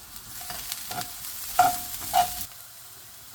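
Chopped onion fries in hot oil in a pan for a Goan-style ivy gourd bhaji, a soft sizzle broken by a few louder stirring scrapes and brief bursts of crackle before it quiets.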